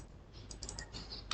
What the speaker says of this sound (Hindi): आप डबल क्लिक भी कर सकते हैं।